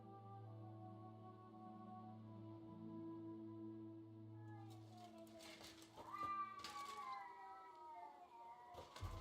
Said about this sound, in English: Those cats are so mad.